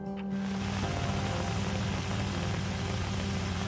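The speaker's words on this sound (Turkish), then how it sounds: "Yağmur tırmalıyor olabilir şu an." Steady rain hisses continuously in the horror video game The Suicide of Rachel Foster, a dense, even wash of noise with a low hum beneath.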